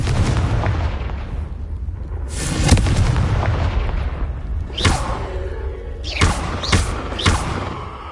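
Confringo fire spell blasts cast in Hogwarts Legacy, several sharp booming impacts with crackling tails spaced through the stretch over a steady game ambience, no talk.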